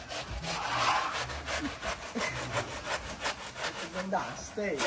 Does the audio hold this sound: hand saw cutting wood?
yes